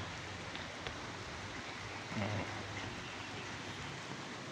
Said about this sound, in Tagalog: Maulan pa naman ngayon patmalo.